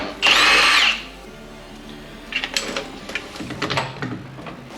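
A power drill with several extensions on a too-small bit whines loudly in one sustained burst while removing truck body mount bolts, followed by scattered clanks and rattles of metal parts being handled nearby.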